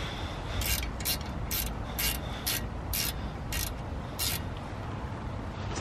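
Ratchet tightening brake caliper bolts on a Ford Fiesta ST180 during a front pad and disc change, a series of about eight short, crisp clicking bursts over a low steady background hum, close by.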